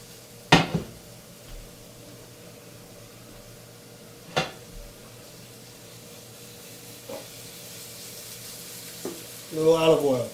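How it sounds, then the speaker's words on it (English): Shallots hit a hot pan with a sharp sizzle, followed by a few distinct clatters of utensils against cookware and a low, steady background hum, with a louder burst of frying near the end. "So I got a hot pan. Throw the shallots in."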